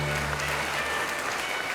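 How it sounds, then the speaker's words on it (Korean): Brief burst of audience applause welcoming a guest speaker to the podium at a Korean commemorative rally for the 100th anniversary of March 1st, dense and even, with a low hum and a faint tone underneath. "박수로 모시겠습니다"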